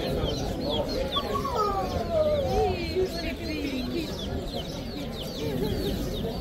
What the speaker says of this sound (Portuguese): o Gal está a cuidar das galinhas